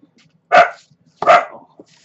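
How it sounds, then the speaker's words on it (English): Pet dogs bark twice at home, two loud, close barks spaced about a second apart, followed by a faint trailing yip and then quiet. "It's my dogs."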